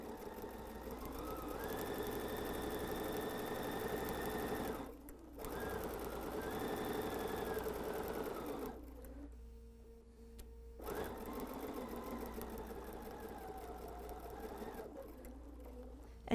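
A sewing machine stitches a June Tailor quilt-as-you-go Tori Tote, running in steady close bursts with a brief pause near five seconds and a longer stop before resuming.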